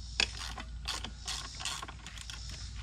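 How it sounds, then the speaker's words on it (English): A wrench loosens the subframe bolts on a YZ 426F motorcycle, giving a few faint, close ratcheting clicks and metallic turns over a low background hum. "we're gonna loosen the two subframe bolts at the bottom"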